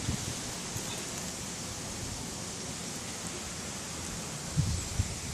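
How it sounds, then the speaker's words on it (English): Steady, even hiss of heavy rain pouring down on a driveway, continuous and fairly quiet throughout, with a couple of faint low knocks near the end and no talking. "it's pouring down with rain"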